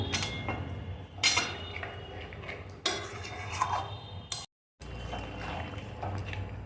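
Marinated chicken being stirred in a pan over a medium flame after the marinade rinse water is added, with close scraping and clinking of a spoon against the pan and bursts of sizzle, continuous and fairly loud.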